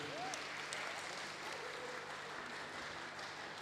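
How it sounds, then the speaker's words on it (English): Audience applause fills a book launch for a social history book, a steady wash of clapping from a crowd that holds evenly throughout at moderate volume. "So please, everybody, give Shanice a round of applause."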